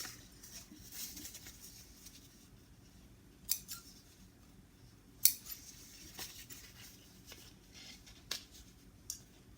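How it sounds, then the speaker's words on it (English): Scissors snip away loose extra threads on a sewing project, giving a few sharp, separate clicks and snips with quiet pauses between them, close and fairly soft, with no talking. "So many extra threads to trim off."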